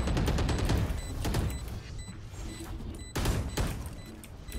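Gunfire from a mobile shooter game: several dense bursts of shots, a heavy volley at the start and another sharp cluster near the end, with quieter rattling between, loud and close.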